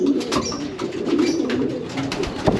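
Racing pigeons, including US-bred cocks, coo in a loft. The soft, throaty calls repeat close by and overlap one another against a low hum, with no talking.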